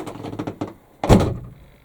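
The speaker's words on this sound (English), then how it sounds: "there goes the door" A door thuds shut close by with a single solid knock and brief rumble, preceded by a few softer handling taps, heard inside a touring van at a petrol station.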